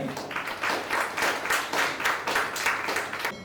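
A teacher and group clapping together at a school event in Kerala, a steady rhythmic series of about a dozen crisp claps, close and loud, with no talking.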